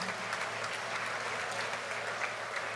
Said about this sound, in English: You give yourselves a good round of applause.